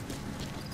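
Horse hooves clip-clop in the video game Metal Gear Solid V, a short, dense, loud burst of hoof hits blended with game noise, with no talking.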